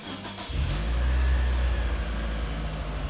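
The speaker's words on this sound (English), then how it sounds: "Okay, car starts, clutch in gear." Mitsubishi Evo engine, off the road for 18 years, catches after a brief crank and settles into a loud, steady idle with a low rumble and slight fluctuations, close to the listener.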